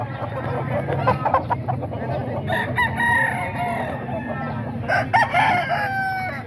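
A gamefowl rooster with yellow legs and a straight comb crows loudly nearby, with several drawn-out calls over a low background murmur of people talking.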